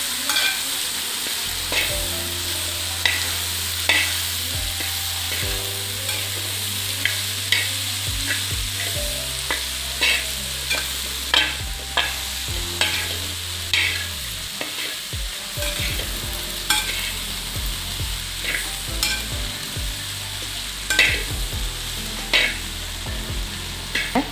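Jackfruit upperi chips are stirred in a pan, with regular scraping and clinking strokes of a spoon over a low steady hum, close and fairly loud, with no talk.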